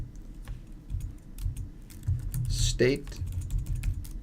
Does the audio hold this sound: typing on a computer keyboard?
yes